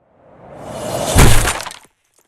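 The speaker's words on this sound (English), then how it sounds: "It's called Big Glass Bottle Smash" A large glass bottle smashes with a loud crash, bright shattering fragments tinkling briefly as it dies away, heard alone and close.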